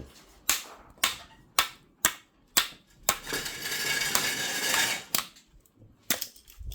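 A hammer strikes the metal parts of a household grinder being dismantled for scrap. Eight or so sharp metallic knocks ring out at a steady pace, and a longer stretch of grinding, rattling clatter runs between them.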